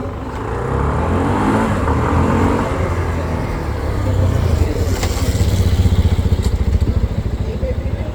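A CFMoto SR300 motorcycle at the Dhaka Motor Show revs with a rough, pulsing engine note that builds and stays loud, heard close up under some speech.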